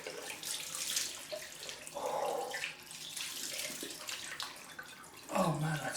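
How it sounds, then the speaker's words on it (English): Cold water runs from a tap into a sink, a steady splashing hiss with brief louder bursts, heard up close with no talk. "So, cold water going."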